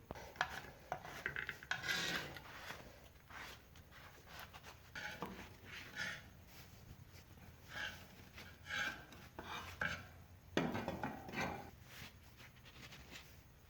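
A rag wipes down hood hinges from a 1978 Monte Carlo, producing soft, irregular rubbing and scraping strokes, fairly quiet and close, with short pauses between bursts.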